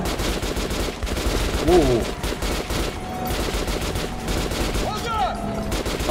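Gunfire in the first-person shooter Metro Last Light Redux rattles in dense, loud bursts amid game effects and creature noise, with a player exclaiming briefly.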